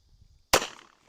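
One sharp, loud crack of a .22 Short round fired from a lever-action rifle, with a quick decaying tail.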